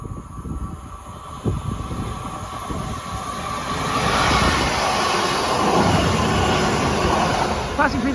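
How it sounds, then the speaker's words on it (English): A London Northwestern Railway Class 350 electric unit passes through Tipton station, running from Liverpool Lime Street to Birmingham New Street, its rumble building to a loud, steady roar of wheels and rail noise close by. "Passing through there was 350-251 on a London Northwestern Railway service from Liverpool Lime Street to Birmingham New Street."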